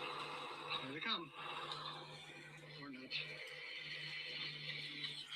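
Horses neighing in a video playing in the background, two faint whinnies about two seconds apart heard through a speaker under a low hum.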